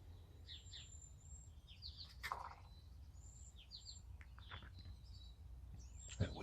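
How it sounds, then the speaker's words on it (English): Small birds chirping and singing outdoors in the background, scattered high tweets and short trills at a distance over a quiet low rumble. "there's lots of Lachlan Botanical birdies in the background"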